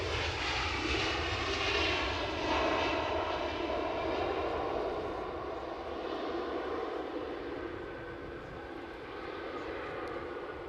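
A Boeing 787-9 jet airliner at Edinburgh Airport sends out a sustained, broad engine roar that swells slightly and then eases, heard from a distance with no voices over it.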